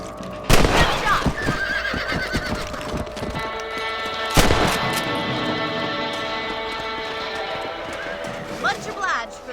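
Horse in the Red Dead Redemption video game whinnying loudly twice amid hoof clip-clops and a sharp gunshot, with a voice talking over the scene.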